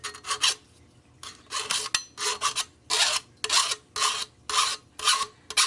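A rasp filing wood in about eight separate rough, scratchy strokes, each a short burst followed by a brief pause, close and clear with nothing else audible.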